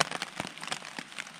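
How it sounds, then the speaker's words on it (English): Rain falls on the Appalachian Trail in the Smoky Mountains on a cold morning, with a close, steady patter of drops on a surface and sharper individual drop hits scattered throughout. "Well, it started raining last night."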